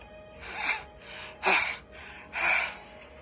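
Heavy, breathy panting in four ragged bursts, close and loud, each gasp rushing in and out with short pauses between.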